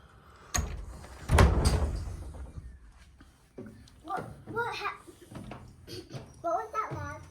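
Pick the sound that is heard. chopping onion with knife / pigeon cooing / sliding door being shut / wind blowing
sliding door being shut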